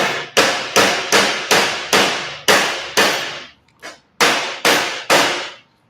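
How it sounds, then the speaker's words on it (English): A small hammer strikes a metal band clamp about a dozen times in a steady rhythm, folding it over; each blow sharp and ringing briefly, close and loud with no voices. "I'm going to take my hammer and I'm going to fold that over"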